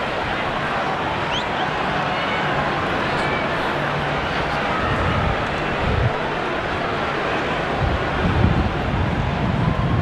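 Strong wind gusting through a rugby stadium in Wellington during an All Blacks v Wales match, a broad, loud roaring rush that stays constant with crowd-like noise beneath and occasional buffeting thumps.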